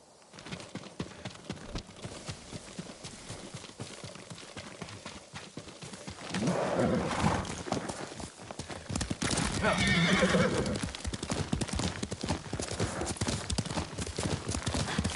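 Game-style horse sounds from Ghost of Tsushima: hooves clip-clopping at a gallop with loud whinnies breaking in, over steady background noise and some talking.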